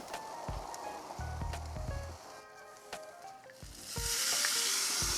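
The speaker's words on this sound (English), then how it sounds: "going to add all the pork pieces onto the grill" Jamaican jerk pork pieces sizzle on a grill over pimento wood, with a steady close frying hiss, scattered pops and a few clinks as pieces go down, the hiss growing brighter and louder toward the end.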